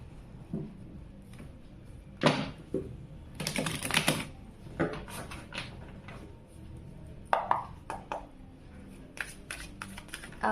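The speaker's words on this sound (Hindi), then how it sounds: "कार्ड शफलिंग अगर आपको बोर करती है तो आप यहाँ से रीडिंग को स्किप कर सकते हैं।" Tarot cards shuffled by hand in quick irregular bursts of flicking and riffling, close and crisp, with short pauses between bursts and no talking.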